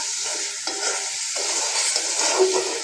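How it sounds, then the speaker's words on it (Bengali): Ginger-garlic spice paste sautés in a pan for a dried-fish dish, a loud close hiss of frying with rhythmic spatula stirring scrapes throughout, no voices. "এখন মশলা কষায়ে তারপরে শুটকি দিয়ে ভালো করে কষায়ে"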